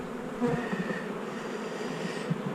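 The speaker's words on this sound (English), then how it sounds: "We don't mind working bees" Honey bees buzz steadily around an open hive during a queen cell check, a dense, continuous hum close by with small swells in intensity and no talking.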